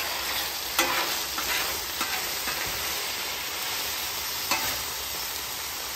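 Ground beef sloppy joe sauce sizzles and bubbles steadily on a hot griddle, a constant loud hiss with a few spatula scrapes and taps breaking through.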